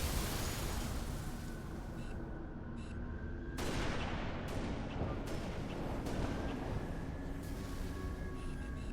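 Sustained gunfire fills a Halo 3 Firefight co-op match, a dense constant roar of shots with several sharper blasts standing out, some brief faint voices underneath.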